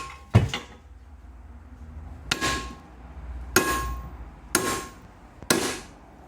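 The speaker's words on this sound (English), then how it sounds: "I have a hammer, and just going to hit it a few times and see if that little crease opens up at all." A hammer strikes a wrapped metal gift box five times at uneven intervals, each blow a sharp, loud metallic clank with a brief ringing tail, with quiet gaps in between.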